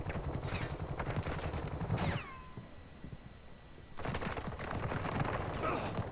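Gunfire in a video game, bursts of shots crackling steadily for about two seconds, then a short lull with a fading whine, then dense shooting resuming, all fairly loud and continuous.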